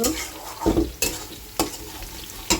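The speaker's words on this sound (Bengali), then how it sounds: "ডিমের আলুগুলো সুন্দর করে কষিয়ে নিচ্ছি" Eggs and potatoes being sautéed in a pan, with a soft steady sizzle under repeated close scraping strokes and sharp knocks of a spoon against the pan every half second or so.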